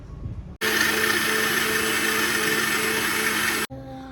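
A mixer grinder blends soaked rice in water, a loud, steady whirring roar that starts abruptly, runs about three seconds and cuts off sharply, with faint household noise before and after.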